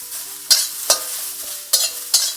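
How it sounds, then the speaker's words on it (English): Vegetables sizzle in a wok over very high heat as a utensil scrapes and tosses them in quick, sharp bursts about every half second. "flash frying on very high heat. Just keep stirring it."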